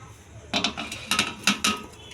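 Leftover cooked rice tipped into a cooking pot of nearly done rice on a gas stove, giving a few quick clattering, clinking contacts against the metal pot in short bursts, close and fairly quiet.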